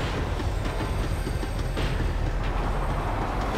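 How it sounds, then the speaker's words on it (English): A tram in the video game Max Payne 3 slows down, its steady rolling rumble and faint rail clatter filling the short stretch without any voices. "Tram was slowing down, and I'd only just gotten on board."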